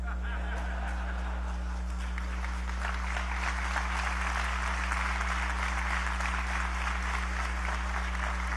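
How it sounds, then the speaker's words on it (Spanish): Steady applause from an audience in a national constituent assembly session fills the whole stretch, dense clapping that swells slightly partway through, over a low constant hum. "Y si la gente aplaude"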